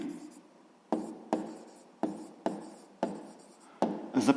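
Pen strokes on paper while solving a sixth-grade maths exercise: a series of about seven sharp, evenly spaced scratches, close and clear, with faint room noise between them.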